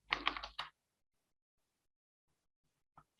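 Code typed on a computer keyboard, a short close burst of clustered keystrokes, then near silence before a couple of faint clicks at the end.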